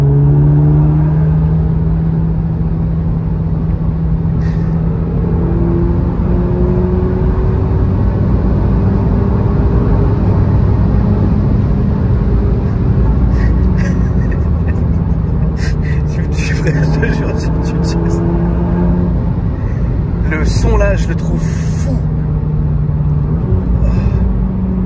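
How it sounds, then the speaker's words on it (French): A car engine in a turbocharged car revs and accelerates hard, with a steady loud rumble and rising whine as the turbo spools and opens, while occupants talk excitedly over it. "T'entends quand le turbo il s'ouvre là?"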